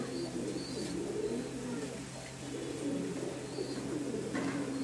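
Giribaz pigeons coo in soft, repeated low murmurs close by, set against a steady background hum with no talk.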